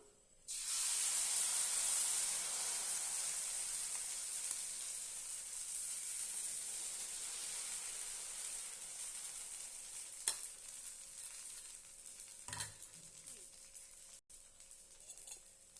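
Batter for a healthy green gram and ragi bun dosa hits a hot, deep kadai with a sudden loud hiss that settles into a long, steady sizzle, joined by a couple of brief clanks of utensils near the end.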